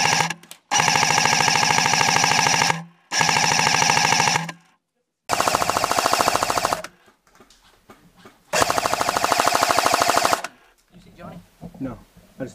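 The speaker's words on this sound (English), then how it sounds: "I just know someone's shooting over there." Rapid machine-gun bursts from an MK46 fired close by, several long sustained volleys separated by brief pauses, very loud, with faint talk in the quieter gaps.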